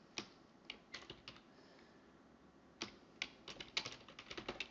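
Someone types Razor code on a computer keyboard, quiet close-up clicks coming in short irregular bursts separated by a pause, in a calm room with no speech.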